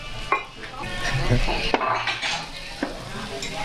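Beef fajitas arriving at the table sizzle loudly on a hot plate, with clinking dishes and utensils adding sharp metallic taps over the steady hiss.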